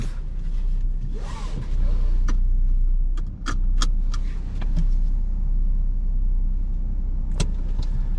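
A 2021 Citroen C3 with a 1.2-litre three-cylinder PureTech petrol engine settles into a steady low idle after starting, with a few sharp clicks and key rattles over the hum.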